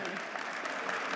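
A banquet audience gives a round of dense, continuous applause for the dessert, steady and moderately loud across the whole moment, with many hands clapping at once.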